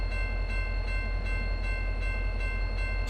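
A locomotive moving in the RO-Scale Sandbox video game, a steady loud mechanical drone with regular clacking pulses about every third of a second and a sustained tonal hum.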